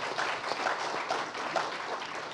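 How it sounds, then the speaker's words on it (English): A crowd claps steadily, the dense pattering applause continuing evenly for a couple of seconds with no voices over it. "round of applause for everybody."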